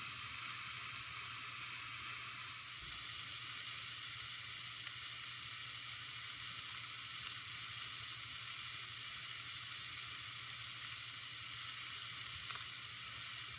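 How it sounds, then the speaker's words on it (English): A homemade ground sausage patty frying in a pan: a steady, close, loud sizzle that runs unbroken throughout, with no talk. "I will fry the sausage up, and I will test it"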